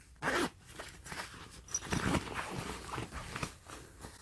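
A zipper on a vintage The North Face jacket is pulled in a couple of quick, close rasps, followed by soft fabric rustling and handling noises.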